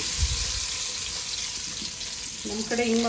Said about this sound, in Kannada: ಸಾಸಿವೆ ಬೆಳ್ಳುಳ್ಳಿ ಈರುಳ್ಳಿ ಹಾಕ್ಕೊಂಡು ಒಗ್ಗರಣೆ ಹಾಕೋತಾ ಇದ್ದೀವಿ